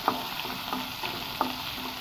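Onions sautéing in a pan for an eggplant thokku, with a steady soft sizzle and spatula scrapes about every half second, close and moderately loud, with no talking.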